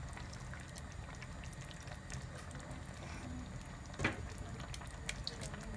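A pot of Uzbek plov simmering, with water bubbling softly in a steady low burble and one brief louder splash or pop; quiet and close, no speech.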